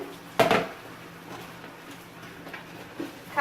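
Collard greens tumble into a cooking pot with a loud clatter of metal near the start, then a few soft scrapes and knocks as they are stirred.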